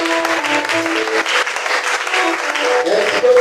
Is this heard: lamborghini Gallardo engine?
no